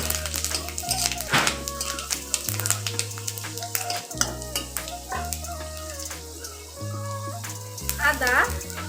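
Bay leaf, dried red chilli and panch phoron sizzle in hot oil for a Bengali chal potol dish, a continuous frying hiss with faint spatters partly masked by louder stepping background music.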